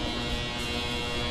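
An ultrasonic cleaner hums steadily while cleaning a Craftsman Troy-Bilt snow blower carburetor, a constant electric buzz with even loudness and no speech throughout.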